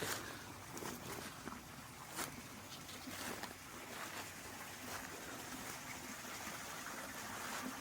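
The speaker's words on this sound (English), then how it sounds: "There's a deep creek down in there." A deep creek below a cliff flows with a faint, steady rushing wash heard from a distance, continuous and even throughout with no voices.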